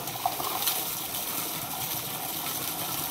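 Water gushing strongly through an opened valve or outlet, a steady broadband rush that holds loud and even throughout with no talk over it.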